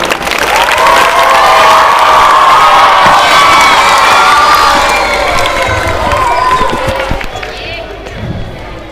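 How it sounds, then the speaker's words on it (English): A school audience of children and staff at a debate program bursts into loud applause and cheering for the principal coming on stage, with shouts and whoops over the clapping that swells and then fades near the end. "applause on the stage."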